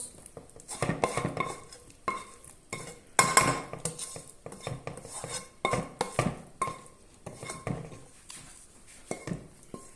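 A cooled celery stalk mixture being stirred into yogurt, with uneven spoon clinks and scrapes against the bowl and soft wet stirring, close by, with no talk.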